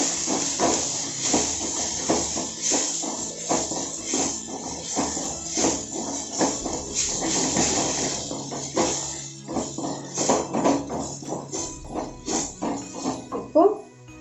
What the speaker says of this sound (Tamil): குடமிளகா கட் பண்ணி வச்சுருக்கேன், அது போட்டுக்கலாம். இதையும் ஓரளவுக்கு வதக்கலாம்.